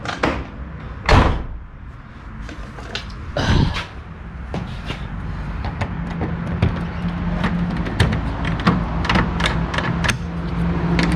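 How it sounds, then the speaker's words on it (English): A car door on a Holden VL Commodore slams shut twice with heavy thuds, then a string of small clicks and rattles follows as a key works the lock. "We'll shut the door, we'll use the key, we'll see if it works."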